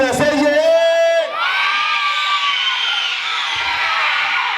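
Crowd at a child's first birthday party cheering and shouting yay together, loud and close, a burst of voices following a brief spoken prompt and then sustained whooping.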